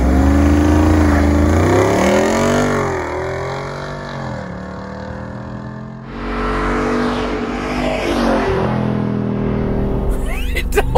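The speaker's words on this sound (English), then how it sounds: "It's like a muscle car. It's just like rrr, rrr, rrr. It's so loud." A Jeep Wrangler SRT 392 V8 revs hard while driving off-road, engine pitch climbing and falling through gear changes close up, with a brief lull near the middle before it pulls again.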